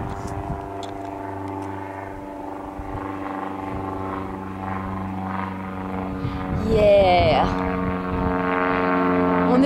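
Propeller airplane engine droning steadily, building in loudness toward the end as it powers up to take off, with people talking nearby over the hum.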